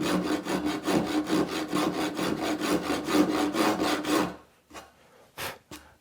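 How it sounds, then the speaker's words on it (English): A hand saw starts a shallow dado cut in wood with light pressure. Its rasping strokes are close and rhythmic, about four per second for roughly four seconds, followed by a few slower, separate strokes. "Now start taking a little bit more weight off the toe, letting the weight of the saw do its work."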